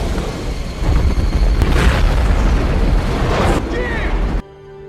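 Shark being blown up in the film Deep Blue Sea: a loud, sustained explosive boom and roaring rumble lasting several seconds, cut off abruptly near the end.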